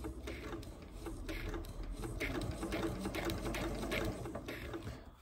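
A sewing machine stitches a seam on a pair of shorts, a rapid even clatter of the needle running steadily up close, slowing slightly as it finishes.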